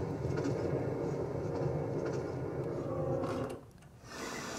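Recorded train setting on a high-fidelity sleep sound machine: a steady, loud rumbling rail noise with a faint rhythmic clatter, continuous for several seconds before briefly dipping and returning.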